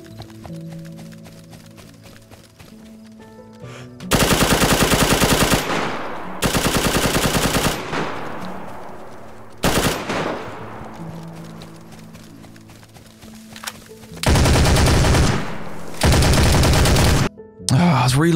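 Guns firing in DayZ, loud close automatic bursts in four or five sustained blocks of one to two seconds each, separated by short gaps with echoing tails and quieter background sound.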